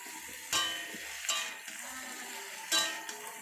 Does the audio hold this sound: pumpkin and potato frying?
yes